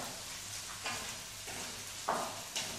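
Chicken vegetable fried rice sizzles steadily in a pan, with soft frying hiss and occasional louder stirring scrapes and clinks, close and moderate in volume, no talk.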